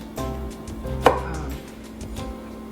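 A knife slicing through Brussels sprouts on a cutting board, a few soft cuts capped by one sharper thunk of the blade hitting the board, close and fairly quiet, no talking.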